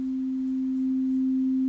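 A sine wave carrier tone on a Synthstrom Deluge synthesizer holds as one steady, pure, unbroken pitch, moderately loud and alone with no other sounds.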